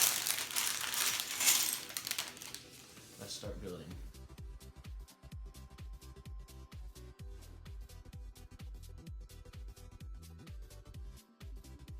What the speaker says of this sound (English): This bag one opened up.